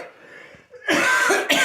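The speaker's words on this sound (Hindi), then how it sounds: "खांसी हो गई, सर्दी है।" A person with a cold coughs twice in quick succession, a loud, harsh burst after a quieter throaty lead-in, close to the microphone.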